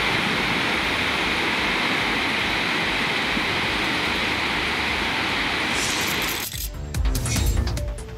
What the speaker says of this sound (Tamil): கனமழையால் நெய்வேலி NLC சுரங்கங்களில் தண்ணீர் ஆர்ப்பரித்து கொட்டியது